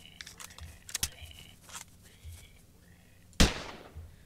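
A single loud, sharp rifle shot rings out near the end amid scattered clicks and scuffs of Hurtworld gameplay, with bolt action rifle gunfire standing out from the quiet background.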